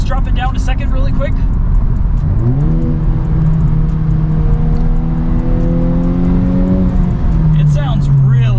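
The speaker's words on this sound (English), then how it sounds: "And this has been the muffler delete for the FK8 Honda Civic Type R." A 2021 Honda Civic Type R FK8 with a muffler-delete exhaust revs in a lower gear, its loud, raspy engine note climbing and holding, then dropping back, with no talking over it.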